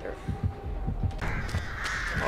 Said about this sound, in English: Holy shit, there's fucking birds.